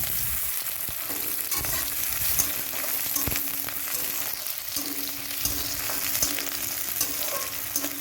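Chopped onions frying in hot oil with whole spices for a wedding-style chicken curry, a dense continuous sizzle and crackle close by, with occasional stirring scrapes and clicks, loud and steady throughout.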